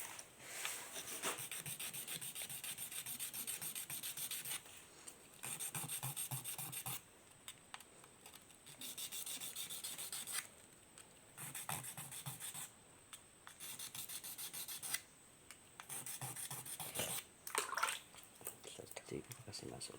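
Eyeglass lens edge ground by hand on a whetstone to fit a frame, a steady scraping rasp in repeated strokes of a few seconds each with short pauses between, close and fairly quiet while someone talks over it.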